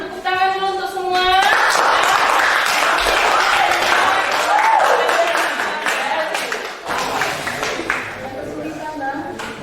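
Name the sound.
applause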